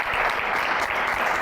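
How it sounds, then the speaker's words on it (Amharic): A short burst of audience applause at a casual game session, a dense steady clatter of many hands clapping at once, close and fairly loud throughout. "አጨብጭቡላችሁ"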